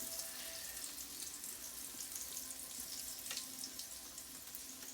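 Battered food frying in hot grease, a steady bubbling sizzle with fine crackles, continuous and fairly close with no talking.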